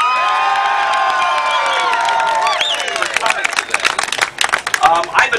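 A big live crowd at Gladstones 4 Fish, at the foot of Sunset Boulevard, cheers and shouts during a KFI AM 640 radio broadcast. Whoops and claps swell loudly and build, with whistles and excited voices mixed in.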